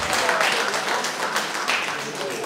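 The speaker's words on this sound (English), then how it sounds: "A round of applause, please." Audience applause at a UK film premiere, sustained, even clapping from a crowd at moderate loudness, with a little voice mixed faintly underneath.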